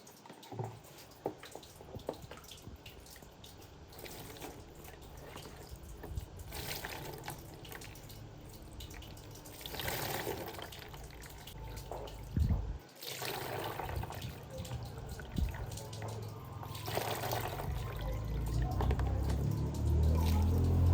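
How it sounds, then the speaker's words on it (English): Homemade Nigerian zobo drink poured through a sieve makes a quiet, steady trickle and splash, with occasional clinks and knocks, and the flow grows fuller toward the end. "It's time to sieve the zobo now."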